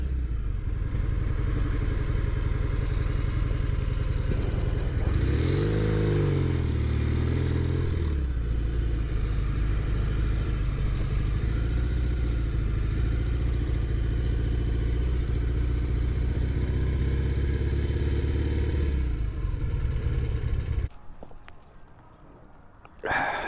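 A Norton Commando motorcycle engine drones steadily while being ridden, loud and close with a rising and falling rev near the start, then cuts off abruptly at the end.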